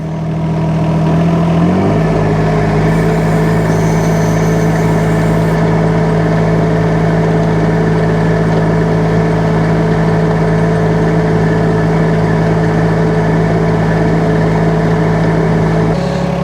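Mini excavator diesel engine rising from idle to full throttle and then holding a steady, loud, droning roar throughout.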